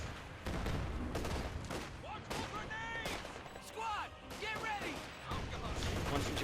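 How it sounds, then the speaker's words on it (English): Rockets firing in the strategy game Company of Heroes 2 during a one-on-one match: dense, continuous volleys of launches, whooshes and blasts, heavily layered over the game's battle noise. "Rockets flying."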